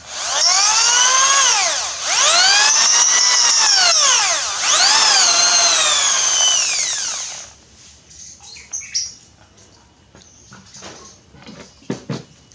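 A power drill whines loudly in three long bursts, pitch rising and falling as it bites, then stops, followed by scattered light clatter and knocks.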